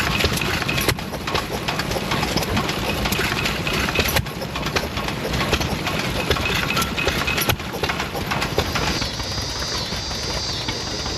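A steady, close Ottawa stationary gas engine runs continuously with a dense mechanical chugging, holding an even level throughout with no voices, at an antique machinery show.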